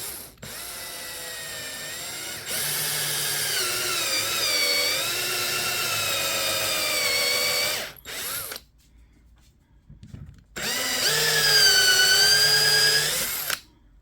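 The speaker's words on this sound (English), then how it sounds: "let's drill us a hole like about right here" A power drill bores a hole into a part of a 2008 Yamaha motorcycle, its whine rising and falling in pitch over two long loud bursts separated by a brief quiet pause.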